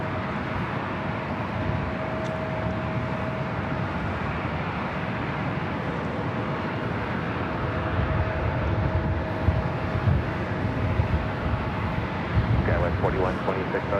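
A jet airliner departing from LAX runway 24 left, a steady distant rumbling roar of engines heard continuously at moderate level, with faint radio chatter in the background.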